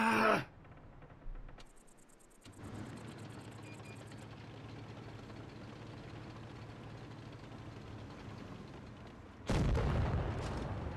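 In World of Tanks Blitz, a British light tank's cannon gives a sharp shot at the start. Mechanical hum and clanking follow, and a second loud blast comes near the end.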